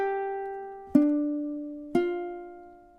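Ukulele plucking measure 12 of a song, three clean ringing notes struck about a second apart, each decaying before the next, close and alone.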